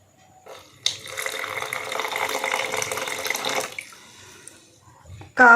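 A cup of water pours steadily into chapati flour in a bowl, a continuous close splashing stream lasting about three seconds, followed by quieter handling sounds.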